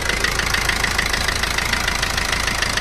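A 2014 Maruti car with an untouched engine and about 138,000 km idles smoothly up close, a loud, even, rhythmic mechanical hum with faint ticking, steady for the whole stretch with no talk.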